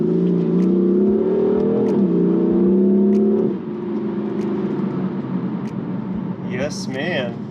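A BMW M4 with an S55 engine and stage 1 tune pulls hard in second gear, its loud rising drone climbing then dropping at a shift to a lower steady whir, heard from inside with voices briefly near the end.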